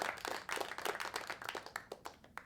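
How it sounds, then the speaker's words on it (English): Applause emote from the online game Dark Age of Camelot, a quick run of crisp overlapping claps lasting a couple of seconds, fairly faint and steady with no voices over it. "Let me hit the applause again with my earphones off."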